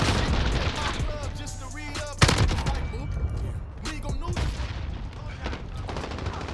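AUG rifle fire in Call of Duty: Modern Warfare, a fast burst of shots with a sharp loud crack near the middle, set against game noise and excited voices.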